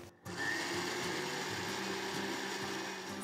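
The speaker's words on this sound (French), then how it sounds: "et je mixe le tout à vitesse rapide." A blender runs at high speed, pureeing raspberries with syrup, a steady loud motor whir that starts after a brief moment of quiet and holds constant with no voices.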